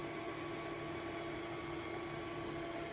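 Electric meat grinder running steadily through a second pass of meat with the coarse plate fitted, a constant loud motor hum with no talking, for jalapeño cheddar smoked sausage.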